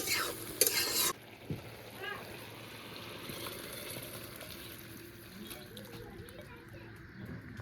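A spoon scrapes and stirs through a pan of curry with fried cumin paste. The soft, quiet stirring follows a brief louder clatter, with children's voices and chatter in the background.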